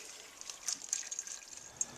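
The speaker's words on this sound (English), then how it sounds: "we're going to pour some distilled water over the top of them, cover them with water, and then let them soak" Distilled water poured over onion seeds to soak them, heard as a soft, close trickle with small splashy drips and brief bright bursts, fairly faint and without talk.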